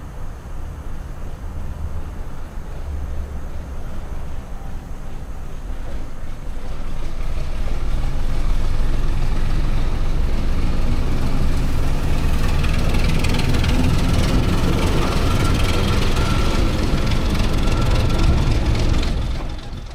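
A small shunter locomotive hauling an Albanian passenger train pulls away after a brief stop, its rough mechanical rumble swelling louder and fuller as it gathers speed, heard steadily with no talk.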